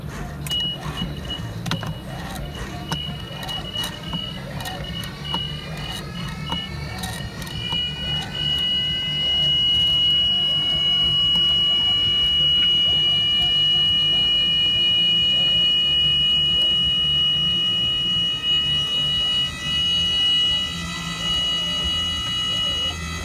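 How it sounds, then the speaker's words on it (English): Electric landing gear of a Mooney M20J 201 extending, a steady motor whine with rising tonal harmonics holding for most of the span over a low rumbling hum, close and fairly loud. "pull the T-handle until the gear comes down"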